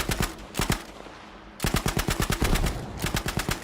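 A Sten submachine gun fires in a video game, with rapid automatic bursts crackling close and loud, separated by brief pauses.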